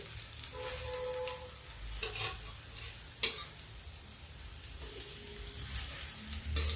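Spinach and gram flour fritters fry in hot oil with a steady, soft sizzle, broken by occasional stirring scrapes and a sharp clink of a utensil against the pan.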